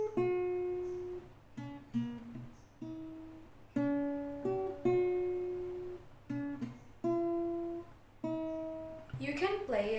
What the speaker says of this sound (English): Intro, we have a melody playing,